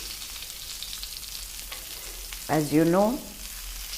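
A skin-on seer fish fillet fries in a pan, giving a steady soft sizzle throughout, with a short stretch of speech near the end.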